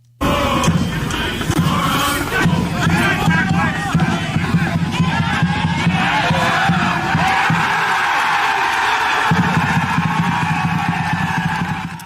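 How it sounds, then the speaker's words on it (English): Excited soccer fans cheer a goal in a match against the Michigan Stars, a loud, sustained roar of voices and shouts that holds steady, dipping only briefly near the end. "Excited crowd, excited fans."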